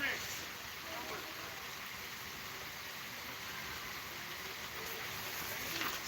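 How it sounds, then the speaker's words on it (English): Rain comes down during a varsity high school baseball game, a soft, steady hiss of falling drops that holds throughout at low level with faint background noise. "and the rain is coming down."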